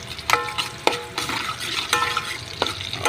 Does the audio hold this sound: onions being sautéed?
yes